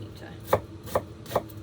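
Knife dicing a vegetable on a cutting board for summer potato salad: three crisp, evenly spaced chops close by, each a sharp thud against the board, with quiet pauses between and no talk.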